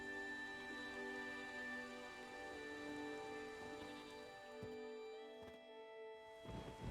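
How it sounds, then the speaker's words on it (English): Steady rain falls in The Witcher 3 video game, a continuous close patter with sustained tonal ambience humming underneath, briefly thinning near the end before returning. "There's no point standing here in the rain."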